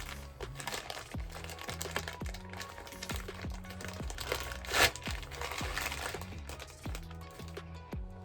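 Packaging for a pink-bang wig crinkles and crunches in short handling bursts, peaking once in a loud rustle. A soft, steady musical tone plays beneath it.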